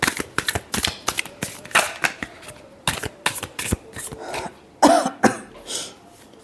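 Tarot cards being shuffled by hand, a quick series of riffling snaps and soft slaps close up, with a brief throat-clearing in the middle and no speech.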